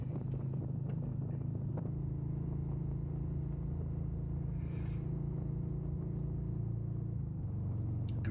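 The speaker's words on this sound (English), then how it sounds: "2023 Harley Softail Standard. It's my second bike and first Harley." A 2023 Harley-Davidson Softail Standard motorcycle being ridden on the road, a steady low engine rumble mixed with wind buffeting that runs throughout, loud and close, with no voices.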